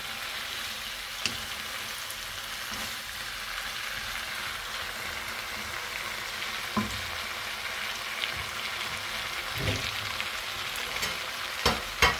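Spicy pasta sauce sizzles in a pan after water is added, a steady close hiss and crackle that runs the whole time, with a few faint clinks from stirring and no talking.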